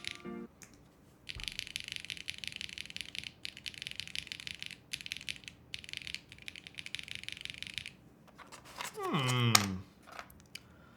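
A custom-built Parallel Snake mechanical keyboard is typed on in fast bursts of crisp, rapid clacks separated by short pauses, followed by a person's voice near the end.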